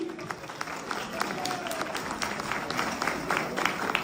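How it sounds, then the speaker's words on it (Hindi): An audience at an event breaks into steady applause, dense clapping that carries on through the whole stretch at a fairly distant, moderate level, with faint voices mixed in. "बहुत सारी तालियां हो जानी चाहिए"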